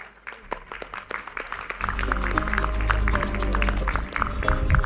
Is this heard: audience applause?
yes